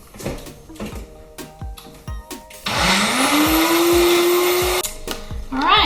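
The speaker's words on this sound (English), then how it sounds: "When you are blending the tofu, you just add the egg." A blender purees tofu and egg into a paste: scattered knocks and clatter, then a loud motor whir rising in pitch for about two seconds before cutting off, followed by more handling noises.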